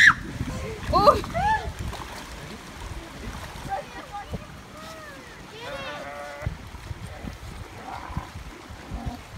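Dogs at a park splash about in water in repeated short bursts, mixed with close excited talk, laughter and shouts, with light wind noise throughout.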